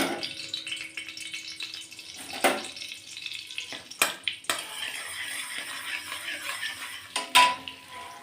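Butter melting into hot white oil in a wok, with a soft sizzle broken by a few sharp clinks of a metal spoon against the pan, close by and with no one speaking.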